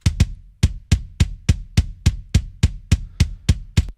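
A processed kick drum strikes in a steady repeating pattern, each hit a weighty, punchy thump with an added sharp click on top, loud and isolated.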